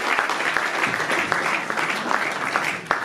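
Applause from an audience at a presentation of a half marathon in Nuits-Saint-Georges, a steady patter of many hands clapping at moderate loudness, unbroken for about three seconds.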